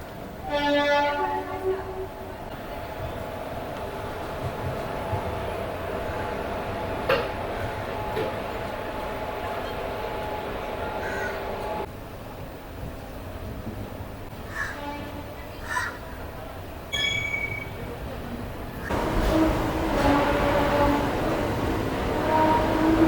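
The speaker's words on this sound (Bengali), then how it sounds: "আমাদের ট্রেন এখন ছেড়ে দিল সিএসএমটি রেলওয়ে স্টেশন থেকে" The Janshatabdi Express pulls out of CSMT station in Mumbai, a steady close rumble and hum of the moving train with a few sharp clanks and shifts in tone, and a crow calling briefly near the start.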